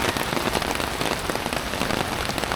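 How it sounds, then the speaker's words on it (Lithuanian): Heavy rain pours outdoors near a market, a dense, loud, unbroken hiss of drops striking surfaces with no voices. "Nežinau, ar per kamerą matosi, kiek čia daug, kaip stipriai lyja."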